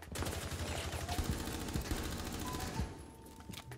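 Rapid gunfire in Rainbow Six Siege, a sustained rattling burst of automatic shots with a few heavier single cracks, fading near the end; no voices.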